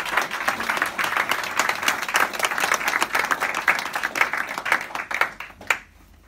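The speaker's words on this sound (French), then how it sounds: "Vous pouvez les applaudir." Audience applause at the inauguration of a music school converted from a prison in Lamentin, a lively burst of clapping that holds steady, then thins to a few final claps and stops.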